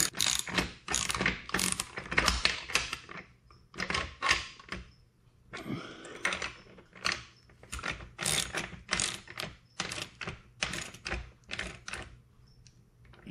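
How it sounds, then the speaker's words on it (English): Nuts are snugged up by hand with a ratcheting tool while an ice shanty is packed for storage, giving bursts of rapid clicking in an uneven rhythm, close and clear with no speech. "And then we'll snug these nuts up."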